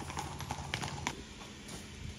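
A mare's hooves clip-clop faintly in a few quick, irregular strikes as she trots away at a Haryana ashram where horses are kept, set against steady outdoor background noise.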